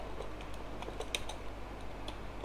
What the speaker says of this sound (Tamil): இப்போ நான் டைப் பண்ணுறேன் பாருங்கள்